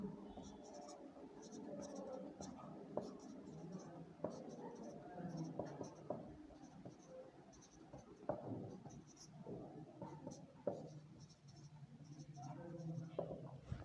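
Marker or chalk writes on a board during a geometry lesson, producing steady scratchy strokes and taps beneath a teacher's continuous speech.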